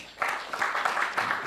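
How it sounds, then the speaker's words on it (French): An indoor audience at a Malian club event claps in a dense, steady burst of applause, moderately loud and continuous for about a second and a half. "Et donc, on applaudit."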